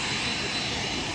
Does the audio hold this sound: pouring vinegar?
no